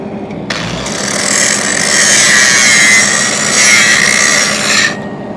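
An angle grinder works steadily over a 6010 pipe weld, thinning the bead with a loud, harsh, continuous whine that holds for several seconds before cutting off.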